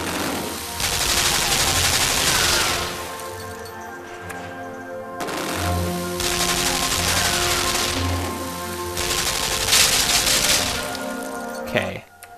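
Gunfire in the puzzle platformer Limbo during its gravity-puzzle finale: bursts of rapid, loud mechanical shots in three main volleys with brief gaps, ending in a sharp crack, over a steady low droning hum.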